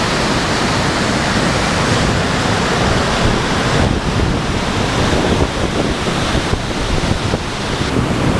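Powerful, continuous roar of fast-flowing water rushing under a bridge close by, dense and unbroken, with some wind rumble mixed in.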